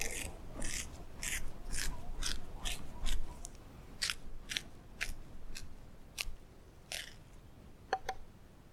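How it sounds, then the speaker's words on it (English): A drill bit is turned by hand into the end of a carrot, making a close series of crisp, rhythmic rasping crunches that gradually space out and fade. "and you drill in the end. Do this by hand, doesn't take long"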